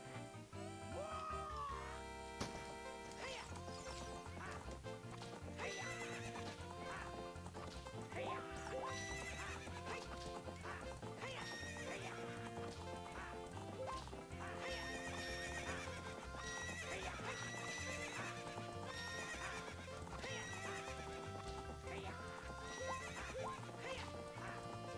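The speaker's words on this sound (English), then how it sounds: "What's up with that horse? Is that Epona?" In Zelda Ocarina of Time, the horse Epona whinnies and gallops in steady clip-clop hoofbeats under continuous game music, fairly quiet throughout.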